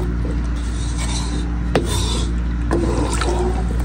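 Two glasses of water poured into cooking masala in a pan, heard as a steady rushing, rasping pour with a few sharp clinks over continuous low kitchen hum.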